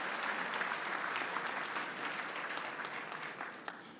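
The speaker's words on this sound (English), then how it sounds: "Let's give a big, big round of applause to our second Vice President," A luncheon audience applauds Mayor Kevin Johnson, second vice president, with a full, even round of clapping that starts strong and slowly thins toward the end, somewhat distant and with no talk.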